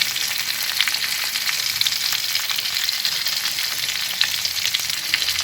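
Constant close hissing and crackling of food frying in hot oil, with brief louder pops, and no voices.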